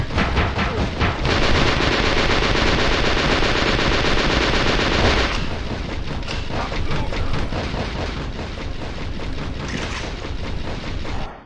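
Rapid, dense machine-gun fire from two guns in a video game, loud and continuous for about five seconds, then continuing as choppier bursts of gunshots until the end, with no talking.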